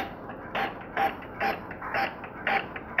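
Epson L5190 inkjet printer running a test print after an ink pad reset: rhythmic mechanical creaks and whirs as the print head carriage moves back and forth, repeating about every half second, close by and alone.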